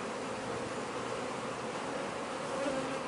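Honeybees buzz around an open hive during an inspection, a dense and even hum from many insects that stays steady and fairly soft throughout, with no voices.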